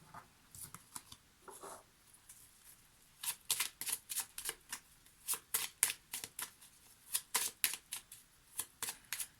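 A Lenormand card deck is shuffled by hand in quick, rhythmic bursts of riffling and flicking, close and crisp, with short pauses between runs and no talking.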